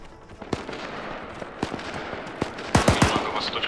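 Heavy machine gun fire in the military shooter ArmA 3 cracks out in sharp single reports and then a quicker cluster of bursts, loud and close, over a low background murmur.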